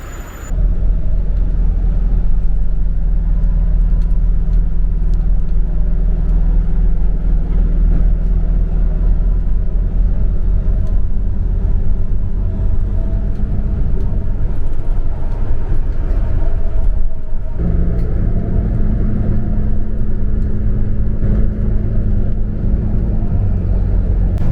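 Interior ride on a 201 or 202 bus out of Abu Dhabi: a continuous deep engine and road rumble hums steadily, then dips and shifts to a rougher tone midway, with no talk.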